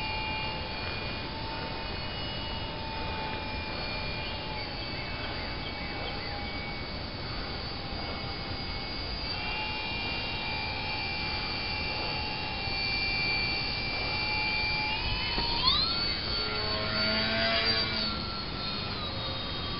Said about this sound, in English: This is a fun little airplane.